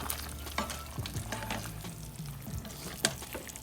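Filipino adobo is stirred in a pan, with a soft simmering sizzle and a spoon scraping and clinking against the metal in irregular strokes. A voice murmurs faintly in the background.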